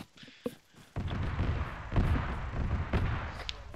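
Rapid cannon bursts and booms from a military shooter game, loud and sustained after an opening thump, with heavy low-end rumble and repeated sharp blasts.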